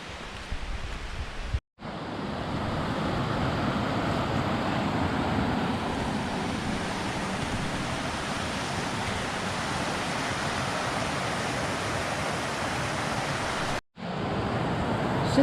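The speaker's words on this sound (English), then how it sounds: "So far the whole way up here, we've had this creek to our right." A creek flows beside a hiking trail in a steady, broadband wash of running water, continuous and fairly loud, broken only by two brief silent cuts.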